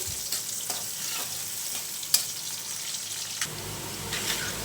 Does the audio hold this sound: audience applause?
no